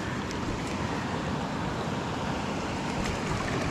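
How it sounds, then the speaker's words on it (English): White water rapids rush in a continuous dense roar while kayaking, loud and close with no voices. "White water kayaking."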